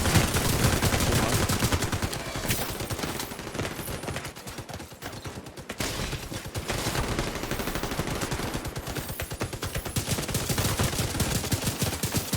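Rapid automatic gunfire from a rifle in a PvP match of the video game The Division 2, loud and nearly continuous bursts throughout with a brief lull in the middle, no talking.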